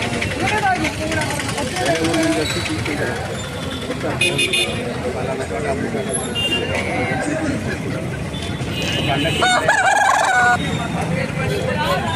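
Chickens at a rural country-chicken market, with fowl calls rising repeatedly over a steady background of people talking nearby and occasional passing vehicle noise.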